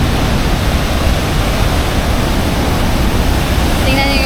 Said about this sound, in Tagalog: ito na yung Giban Falls for the baha